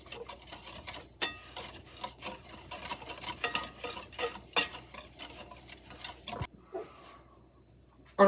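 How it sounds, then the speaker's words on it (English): Sugar and apple pie spice being whisked in a mixing bowl, a close, irregular run of scraping and ticking strokes of the whisk against the bowl, with a clink near the end and no talk. "Now just whisk this together."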